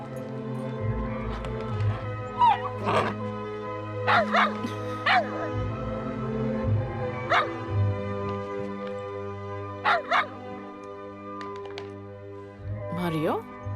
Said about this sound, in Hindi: इसे देखकर क्यों भौंक रहे हो तुम?